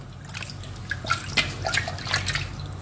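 Rinse water from washing a mixer jar is poured into a pot of black kavuni rice in uneven splashes and trickles, with drips and dribbles close by over a low background hum.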